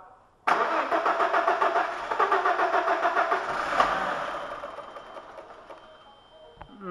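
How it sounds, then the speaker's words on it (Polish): An Audi Quattro VR5 turbo engine cranks and catches at once, then runs rough and loud with a pulsing idle that slowly fades and settles lower. "i możemy próbować uruchomić silnik"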